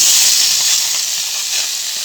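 Tomatoes dropped into hot oil while cooking roti pachadi chutney give a loud, steady sizzling hiss that fades slightly as it continues, close up and with no talking.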